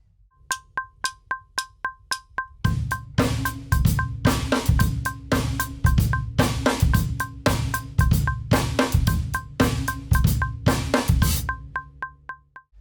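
Drum kit groove in 4/4 starts with a metronome-like click alone, then a steady hi-hat, snare and bass drum pattern enters loud and close, repeating evenly before the click continues alone at the end.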